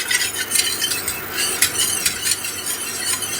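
A spoon steadily stirs a rice milk and almond cream thickened with agar-agar in a pan, scraping in a quick repeated rhythm close by, with no one speaking.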